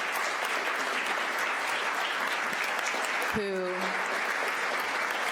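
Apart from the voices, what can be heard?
applause at school board meeting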